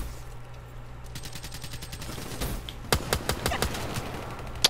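An M14 rifle fires in a shooter video game, a rapid run of sharp shots in steady bursts that grow louder partway through, with faint background ambience.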